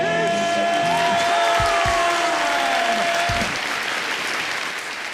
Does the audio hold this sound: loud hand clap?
yes